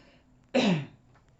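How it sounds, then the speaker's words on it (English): A single short, harsh throat-clearing burst, close and fairly loud, in an otherwise quiet room. "Sorry I'm clearing my throat so much."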